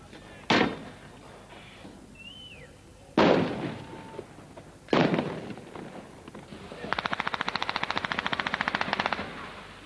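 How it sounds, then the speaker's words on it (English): Machine guns mounted on Israeli tanks fire on Palestinian positions during riots, with three loud sharp single reports followed by a fast rapid-fire burst, echoing outdoors over background noise. "Machine guns on these Israeli tanks opened up on Palestinian positions nearby"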